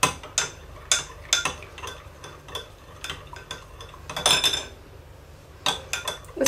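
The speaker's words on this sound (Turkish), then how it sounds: "Karıştırarak soğutmaya bırakıyoruz bunu" A spoon scraping and clinking against a pot while stirring a melted soap mixture as it cools, irregular sharp taps and scrapes close by, no voices.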